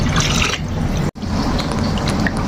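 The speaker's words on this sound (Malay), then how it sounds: "akan tambah air" Water poured into a biryani spice paste in a pot, a steady, loud rushing splash that cuts off abruptly for an instant and then continues.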